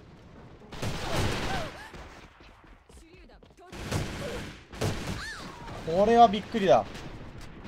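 Rapid bursts of AKS-74U Dracul fire in the online shooter AVA, several short volleys spaced through the stretch, close and punchy, with someone talking in between and over some of the shots.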